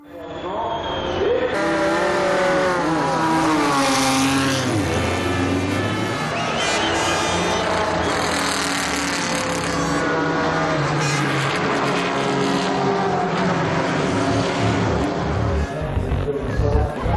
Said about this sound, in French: Le départ des 24 heures du Mans 2005 est donc donné